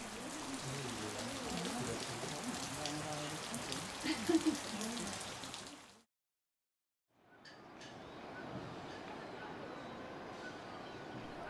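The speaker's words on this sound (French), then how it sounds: "La pluie tombant de plus en plus fort" Heavy rain on the trail in Bhutan pours down in a dense, steady hiss for about six seconds, drops to silence, then returns a little softer and more distant.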